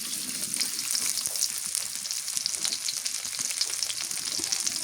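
Chopped onions fry in oil with a constant, even crackling sizzle, close and moderately quiet, with no voices.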